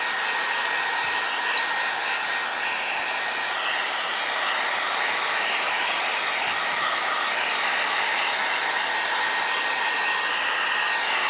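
A hair dryer blows steadily and close, drying a decoupage stencil on a ceramic tile, its even whooshing roar holding without a break throughout and with no talk over it.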